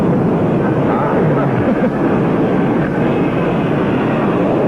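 Aircraft flying in a tight diamond formation at an air show, a steady loud roar of engines holding throughout without a break.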